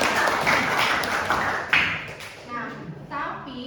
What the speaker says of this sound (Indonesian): Wah, tepuk tangan jawabannya.